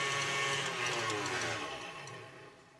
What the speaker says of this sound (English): I'm going to head over to my mixer and get that started